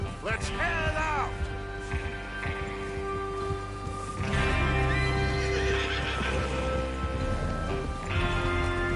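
Horses in the Red Dead Redemption video game whinny several times over clip-clopping hooves, set against a constant game soundscape with low voices.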